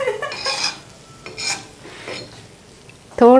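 A spoon scrapes and stirs through a pan on a stove while gulab jamun are made from milk powder, giving a few short scraping strokes separated by pauses, close and fairly clear, with a brief louder clatter at the end.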